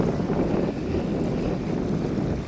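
Wind buffets the microphone outdoors on a foggy, rainy day at Lake Leake, Tasmania, a continuous loud low rumble that fills the whole stretch with no voices.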